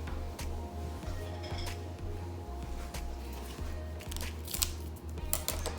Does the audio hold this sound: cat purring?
no